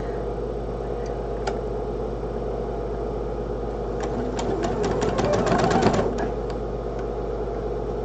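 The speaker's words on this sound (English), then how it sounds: "so we're just going to do our stitch and flip" A home sewing machine stitching a quilt block, its rapid mechanical stitching growing louder and busier midway before easing off, over a loud constant low hum with faint clicks.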